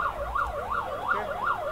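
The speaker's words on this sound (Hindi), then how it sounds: "एम्बुलेंस लंघती पई आ" An ambulance siren wails in a steady rising-and-falling pattern as it passes through a crowd at a farmers' protest site, loud and close, with no talk over it.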